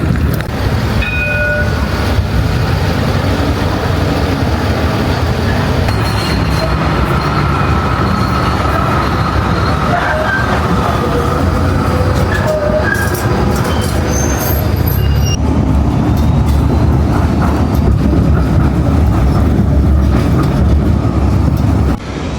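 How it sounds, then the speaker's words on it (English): Melbourne tram on Route 75 rolling steadily, a loud continuous rumble with rail clatter and squeals throughout, close and unbroken. "let's get on the tram and bang our way to the deepest,"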